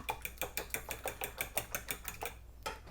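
Beaten eggs whisked briskly in a bowl for tamago yaki, a steady run of about a dozen quick clinking strokes at an even rhythm, close but fairly quiet, with no voices.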